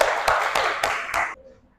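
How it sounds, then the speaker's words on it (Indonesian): A classroom of students applauds presenters in a short burst of dense clapping that cuts off abruptly, close and fairly loud. "Beri tepuk tangan untuk teman kalian yang sudah maju"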